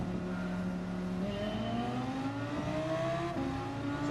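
An Audi R8 engine in Gran Turismo 7, revving up through the gears with steadily rising pitch, one brief dip between shifts, close and continuous with no talk.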